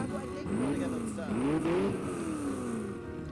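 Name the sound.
car engine purring in video game Watch Dogs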